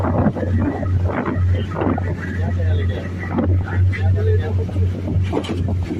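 A boat motors across open blue sea near Port Blair in the Andaman Islands, with a steady low engine drone, wind rumble on the microphone, and a voice talking over it throughout.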